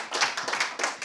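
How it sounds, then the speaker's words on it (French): Brief applause at a student employment and training event, a few sets of hands giving quick, closely spaced claps for about a second. "Je pense qu'on peut les applaudir bien fort."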